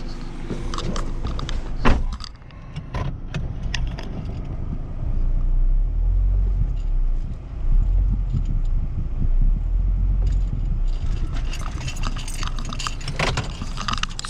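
A Honda Fit drives up onto ramps placed in front of its wheels, with a low engine rumble and tire noise, a brief rubbing sound, and clinks and thumps throughout, heard close and with no talking.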